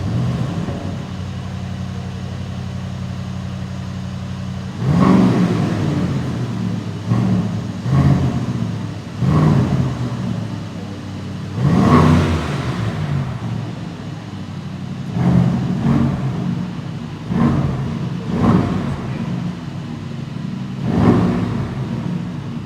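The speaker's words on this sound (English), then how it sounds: "Lovely V8 sound, guys. How do you like the sound of the Aston Martin Vantage here?" A 2024 Aston Martin Vantage with a 665 hp 4-liter V8 idles with a steady low rumble, then the driver blips the throttle into a string of sharp revs that rise and fall, heard from outside the car and fairly close.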